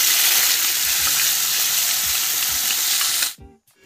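Ground masala paste frying in hot oil with cumin and mustard seeds, a steady loud sizzle with faint low thumps that cuts off abruptly near the end.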